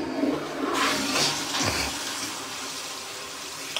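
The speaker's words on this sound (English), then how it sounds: "Let me go flush my toilet." A loud household toilet flushes close by, a broad rushing swirl of water that surges within the first second and then settles into a steady draining and refilling hiss.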